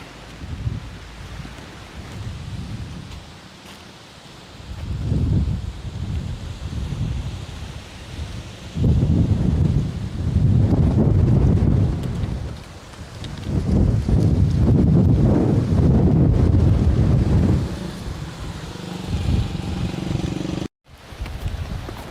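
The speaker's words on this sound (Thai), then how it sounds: "วันนี้ลมค่อนข้างแรงนะครับผม" Strong wind at an elephant village in Surin, loud buffeting gusts roaring across the microphone in waves, with quieter lulls between bursts and a brief cutout near the end.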